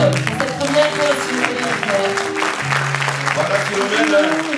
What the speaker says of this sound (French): Applaudissez-la encore.